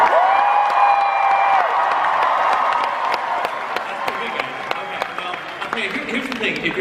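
Comic Con panel audience for DC's Legends of Tomorrow cheering and applauding in a large hall, a loud sustained crowd roar with scattered claps and whoops, fading slightly toward the end, with a voice over a speaker system in the first half.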